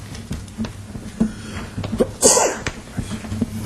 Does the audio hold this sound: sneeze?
yes